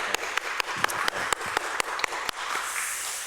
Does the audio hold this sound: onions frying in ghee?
no